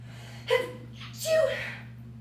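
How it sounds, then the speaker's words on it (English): A single close sneeze with a sharp intake of breath, followed by a short breathy exhale, over a faint steady hum. "I sneezed, finally."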